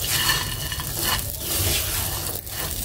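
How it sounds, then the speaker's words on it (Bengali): Semai fried in ghee with white cardamom is stirred in a pan, giving a close, loud, continuous scraping and sizzling swish with rhythmic strokes and no speech. "আমি ভালোভাবে মিশিয়ে নিচ্ছি।"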